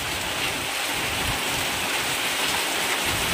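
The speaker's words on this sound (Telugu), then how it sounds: "భారీ వర్షం ఫ్రెండ్స్, చాలా అద్భుతంగా పడుతుంది వాన." Heavy rain pouring in a village, a dense continuous hiss of drops striking surfaces, loud and close with no break, no voices heard.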